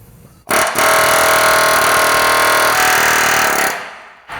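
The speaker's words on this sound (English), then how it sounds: "The key is a sharp tip on a air hammer." A loud pneumatic air hammer punching rivets out of a truck frame rattles continuously for about three seconds, harsh and close, then cuts off.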